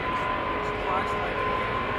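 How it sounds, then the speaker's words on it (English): KLM airliner departing Amsterdam Schiphol Airport, a steady broadband jet engine roar heard from a distance and holding constant without change. "KLM Asia going off to Central America."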